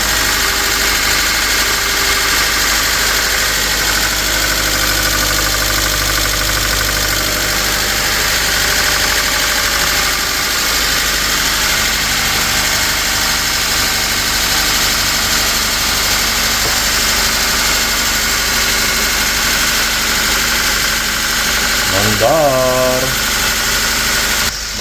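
A 1999 Honda Civic engine fitted with DC Sports headers runs at a loud, steady idle close by, with a rough knocking texture and a brief rev near the end as people talk.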